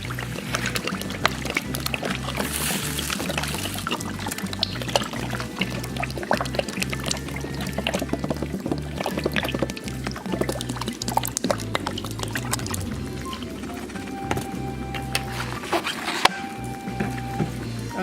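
Soju and wild peach fruit extract poured into a garlic gochujang mixture, a continuous liquid pour with some clatter from the container, steady and close for the whole stretch.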